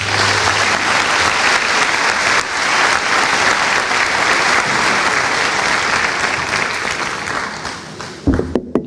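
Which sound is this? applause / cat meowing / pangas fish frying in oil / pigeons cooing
applause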